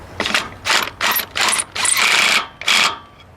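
An Earthquake XT impact wrench removes a wheel lug nut with six loud, close bursts of rapid hammering, each lasting a fraction of a second with short gaps between, the last couple running longer.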